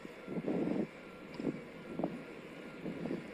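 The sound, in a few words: distant airplanes taxiing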